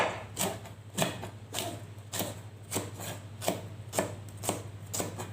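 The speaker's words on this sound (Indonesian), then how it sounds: "kita potong dahulu cabai merah besarnya" A knife slices a large red chili at an angle on a cutting board, about ten evenly spaced, crisp chops in a steady rhythm with no talking.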